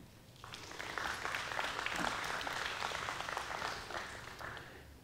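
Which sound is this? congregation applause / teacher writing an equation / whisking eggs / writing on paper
congregation applause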